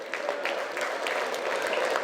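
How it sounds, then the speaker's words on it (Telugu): An audience at an Ugadi celebration gives a round of applause for the performers' parents, a dense, continuous clapping at moderate volume. "ఒక్కసారి వాళ్ళ పేరెంట్స్ కూడా పెద్ద బిగ్ రౌండ్ ఆఫ్ అప్లాజ్ అండి"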